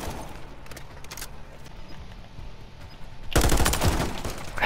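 Call of Duty gunfire with an M13C rifle: faint distant shots crackle at first, then a loud, dense burst of rapid automatic fire erupts close by near the end.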